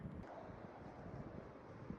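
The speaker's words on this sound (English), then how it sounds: "Oh, wind is really starting to pick up." Wind gusting outdoors on a quiet winter day in an open, rural spot, a steady low rushing roar buffeting the microphone for the whole two seconds, with no voices.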